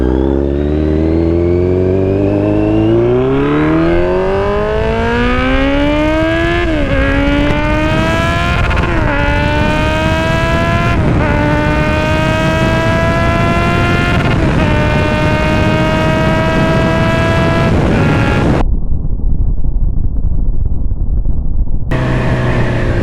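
A Kawasaki Z900 motorcycle engine and exhaust under way, revving up through rising harmonic sweeps with repeated gear shifts and steady loud drone, then an abrupt drop to low rumble near the end before resuming.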